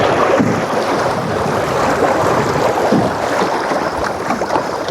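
Canoe moving through small river waves, a continuous rushing wash of water and wind buffeting the microphone, loud and close, no talk.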